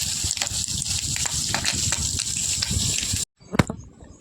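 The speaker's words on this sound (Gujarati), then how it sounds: "પાણી ચાલુ કરી દીધું, પાણી છાંટવા મળીએ" Water being sprayed to clean a shop makes a loud, continuous hiss that cuts off abruptly, followed by a few splashes and drips.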